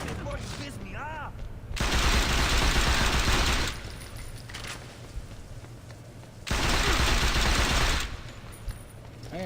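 Saints Row 2 gameplay, with two long bursts of dense automatic gunfire, loud and sustained for about two seconds each, separated by quieter stretches of game sound and speech.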